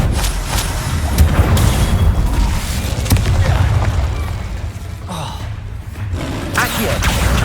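An Incendio fire spell cast in the Hogwarts Legacy video game, amid dense, loud booming blasts and bursts of spell combat that run throughout, with a voice calling out over the effects.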